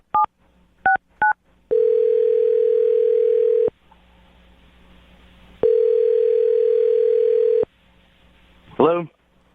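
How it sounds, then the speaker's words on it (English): Several short telephone keypad tones beep in quick succession as a number is dialed, followed by two long steady ringing tones separated by a pause, then a brief burst of a voice at the end. "I'm going to dial the phone number right now."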